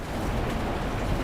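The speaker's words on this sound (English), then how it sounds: "Now it's raining." Steady July rain falls continuously after hail, a dense, even hiss of drops with no voices or breaks.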